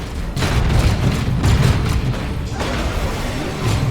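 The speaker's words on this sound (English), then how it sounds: "My squad can take it out with a grenade." A grenade explodes in the PC game Warhammer 40,000: Dawn of War II, a loud, dense, rumbling blast with layered battle noise that stays heavy throughout.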